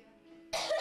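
One sharp, close cough bursts out at a Christmas meal table after a short stretch of quiet room hum, then trails off raspily.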